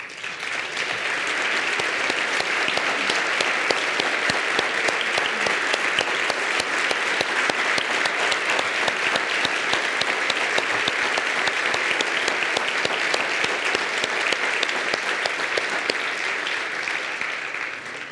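A large audience applauds steadily for veterans and service members standing to be honored, a dense, sustained wash of clapping that holds at an even, loud level from start to finish with no voices rising above it.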